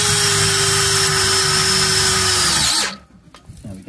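A power drill drives a small self-tapping screw during blockwork, a loud steady whine that holds for nearly three seconds, then cuts off abruptly into quiet with a few light clicks.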